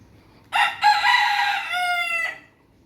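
A rooster crows once, loud and close, a single drawn-out call of about two seconds that rises and then trails off against a quiet background.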